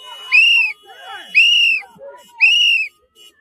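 Whistles blown hard at a street protest, three long shrill blasts in a row with brief gaps between, very close and loud, with faint voices underneath.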